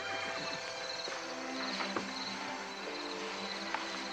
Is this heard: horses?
yes